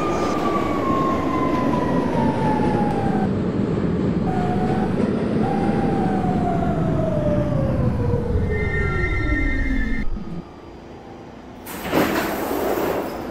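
A New York subway E express train rumbles and screeches as it runs, with a falling wheel squeal and steady roar that drops sharply as it slows, followed by a door-chime tone.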